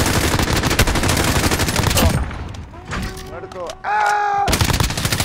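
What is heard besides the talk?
gunfire in video game Call of Duty Warzone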